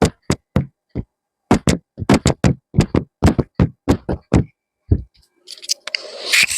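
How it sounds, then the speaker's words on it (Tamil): A fine aari embroidery needle pierces stretched cloth in a chain stitch, giving a quick series of sharp, close taps and pops in an uneven rhythm, followed by a brief rustle of handling. "நான் மைக் எடுத்துடுறேன், ஊசியோட சத்தத்தை நீங்க கேளுங்க."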